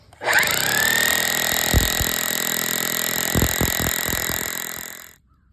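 A jackhammer drilling into rock in the ground roars loudly and steadily for about five seconds, punctuated by irregular low thuds, then cuts off abruptly.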